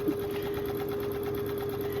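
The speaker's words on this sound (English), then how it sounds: "I love the sound of a sewing machine, don't you?" A sewing machine stitches fuzzy fabric, a fast steady whirring hum with a rapid even needle rhythm, close and continuous throughout.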